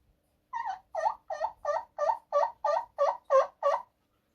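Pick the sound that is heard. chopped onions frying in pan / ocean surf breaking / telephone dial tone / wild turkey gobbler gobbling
wild turkey gobbler gobbling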